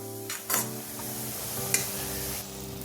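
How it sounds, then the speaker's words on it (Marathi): Wheat vermicelli upma tossed with lemon juice in a pan, a spatula scraping and mixing over a low sizzle, with a few brief sharper scrapes. "पुन्हा छान मिक्स करायचं।"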